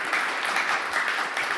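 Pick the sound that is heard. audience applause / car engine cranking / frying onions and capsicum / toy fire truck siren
audience applause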